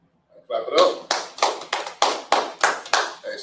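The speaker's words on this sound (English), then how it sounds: "Clap it up." A congregation at a Sabbath service claps in unison, a steady rhythm of loud, close handclaps at roughly three per second, with voices calling out alongside.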